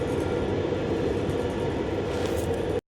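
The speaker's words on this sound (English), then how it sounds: "This is how the train is." Steady low rumble of a train running from Brussels Airport to Brussels Central, continuous rail and carriage noise heard from inside the car, no talk, cutting off abruptly at the end.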